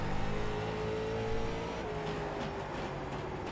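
Late model race car engine in iRacing at Langley short track, a steady droning roar with shifting pitch as the throttle eases and picks up, loud and continuous with no voices.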